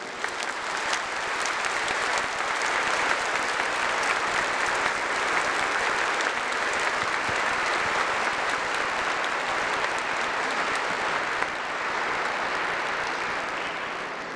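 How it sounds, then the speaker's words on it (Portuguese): Warm applause from the congregation at Mass welcoming the auxiliary bishop, a sustained, even patter of many hands clapping that carries on for a long stretch at moderate loudness before easing slightly at the close. "com uma calorosa salva de palmas"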